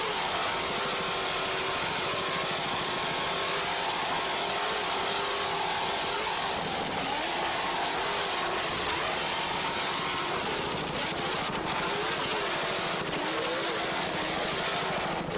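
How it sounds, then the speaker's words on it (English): A 32-foot offshore superboat powered by two 650 hp Zool racing engines with MerCruiser drives roars continuously at high speed during a 1993 Fort Lauderdale offshore race, a loud, steady broadband engine drone with slight surges. "32-foot superboat, and it's powered by two 650 horsepower Zool racing engines with Mercruiser drives"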